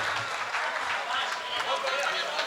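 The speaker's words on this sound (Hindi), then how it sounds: "नदीम भाई के लिए जोरदार तालियां बजा दीजिए एक बार।" Audience applause at a poetry recital in Bijnor, a steady dense wash of many hands clapping together throughout, fairly loud and even, with a crowd murmur beneath.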